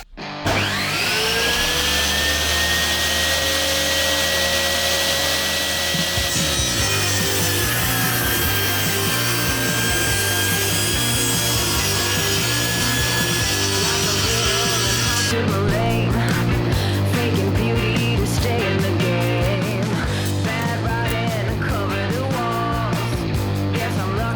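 A Ronix 5603 table circular saw whines at speed, then bites into a wooden board with a loud, rough grinding cut that continues steadily to the end.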